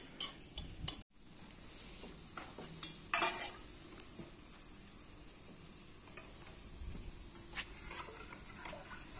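Gram-flour batter for kadhi is poured into browned spice tempering in a pan and stirred, making a soft steady sizzle with scraping and clinks of a spoon against the pot.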